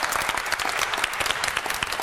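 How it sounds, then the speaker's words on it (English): Loud, dense applause from an event audience, many hands clapping close and continuously with no break for the whole short stretch. "let's give them a round of applause."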